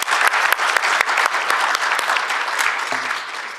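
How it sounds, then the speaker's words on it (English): A finance forum audience applauds a speaker after his talk, with a loud, even wash of clapping that runs throughout and eases slightly near the end. "Give him a big applause first."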